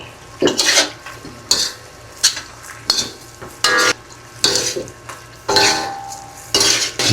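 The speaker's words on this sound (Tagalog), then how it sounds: "Haluin ng dandahan." A utensil stirs chicken curry with curry powder and turmeric in a pot, giving repeated loud scraping, clattering strokes in an uneven rhythm with short pauses and a faint sizzle underneath.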